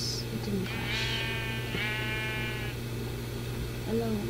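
Sheep in the Minecraft Hexxit modpack game bleat twice in quick succession, with a steady electric hum throughout and a voice talking over the game audio.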